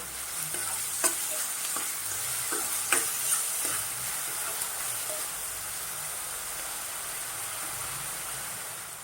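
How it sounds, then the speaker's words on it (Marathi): Two finely chopped onions fry in about half a ladle of oil, giving a continuous close sizzle, with a handful of sharp spatula taps and scrapes against the pan early on. "आपण कांदा तेवढा भाजून घेऊया"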